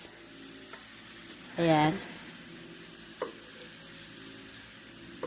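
Chicken cutlet frying in olive oil gives a brief burst of sizzling, close and fairly loud, over a quiet kitchen background; a few soft clicks follow and a voice speaks briefly.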